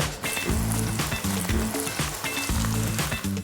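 Eggplant pieces, squeezed of excess water, fry in hot oil in a pot for Georgian ajapsandali, giving a steady loud sizzle with brief stirring clatters throughout.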